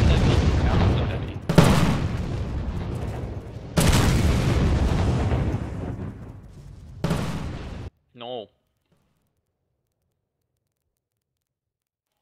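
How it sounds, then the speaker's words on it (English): Several heavy booming cannon blasts in the video game M.A.V., each a sustained roar lasting a second or two, followed by a short voice and then silence. "I think these cannons are just too heavy."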